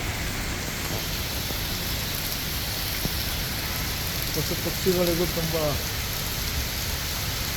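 Heavy evening rain falls over Bangalore, a steady, dense hiss of downpour filling the whole stretch while a voice talks over it, with a brief louder patch near the end.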